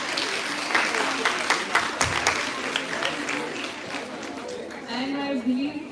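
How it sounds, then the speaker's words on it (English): Applause from a gathered audience, with scattered claps and some voices talking over it. "So we should start with a round of applause for all of you."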